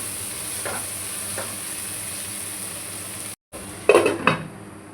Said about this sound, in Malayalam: 2 തക്കാളി കൂടെ വാടിയ സവാളയിലേക്ക് ഇട്ട് കൊടുക്കുക. അതൊന്ന് നല്ലോണം ഒന്ന് ഇളക്കി